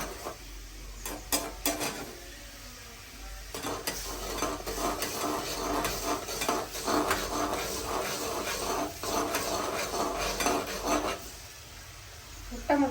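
Food mixed with salt in a dish: a steady run of stirring and scraping with sharp clicky strokes, close and moderately loud, continuous for several seconds with no talk.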